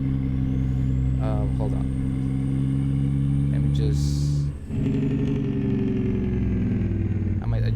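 A truck engine in American Truck Simulator hums steadily with a low, constant drone and rising tone, while someone talks over it throughout.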